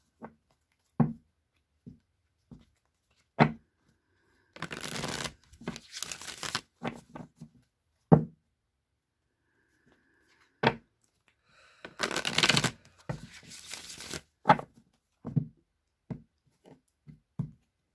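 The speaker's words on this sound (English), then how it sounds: "So I'm going to shuffle 3 times, cut the deck, draw a card" Tarot cards being shuffled repeatedly: bursts of riffling and sliding mixed with light taps and knocks on a table, close by with no talking.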